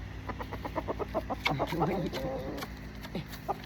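A rooster makes a soft, rapid purring trill of low clucks, close by, with a voice murmuring briefly over it.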